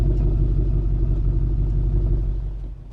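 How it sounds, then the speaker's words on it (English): A supercharged Range Rover V8 burbling along at low revs, a deep, steady, throbbing rumble heard up close that eases slightly toward the end, with no talking. "Does have a really nice V8 burble."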